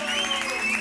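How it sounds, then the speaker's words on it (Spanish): Audience applause for a chef being introduced at a Veracruz-style gastronomic menu event, a short, steady burst of clapping with faint crowd noise, no voices over it. "Quiero saber qué se siente tener un aplauso público hermoso."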